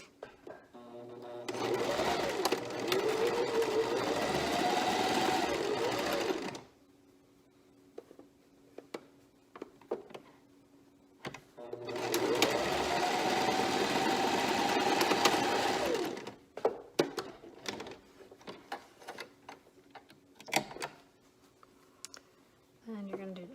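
Sewing machine stitching a fabric mask along a marked line, two long whirring runs of several seconds each separated by quieter handling clicks and rustles.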